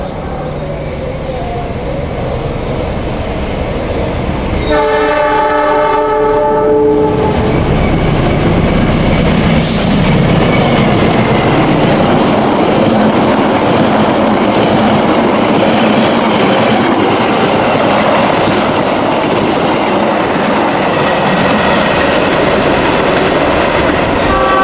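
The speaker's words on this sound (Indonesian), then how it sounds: "Kereta api Mutiara Selatan melintas langsung di stasiun Gede Bage" The Mutiara Selatan passenger train roars past close by through Gedebage station in Indonesia without stopping, with a horn sounding early on, then steady rumbling and clattering wheels as the carriages sweep through.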